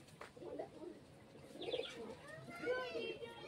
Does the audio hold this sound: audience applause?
no